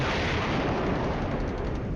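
Artillery fire in the Cold War wargame Flashpoint Campaigns rumbles as a dense, continuous, loud roar of blasts without clear separate impacts, heard alone.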